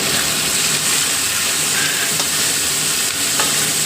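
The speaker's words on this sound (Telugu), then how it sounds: "బాగా కలిపి కొంచెం పచ్చివాసన పోయేటట్టు నూనె వేగేంత వరకు ఉంచుకొని" Tomato masala frying in oil, steady close sizzle with spatula scrapes and stirring knocks throughout, no voices.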